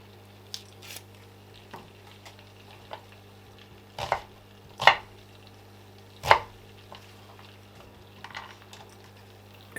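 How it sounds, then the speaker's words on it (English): Knife chopping through a peeled onion on a board, a handful of sharp separate chops spaced irregularly over a quiet steady hum, with a couple of louder strikes standing out, no one talking. "Peel and coarsely chop your onion."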